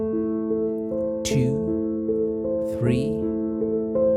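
Sustained piano notes played with the sustain pedal down blend and ring into one another while a voice counts aloud over the top, the tones lingering without cutting off.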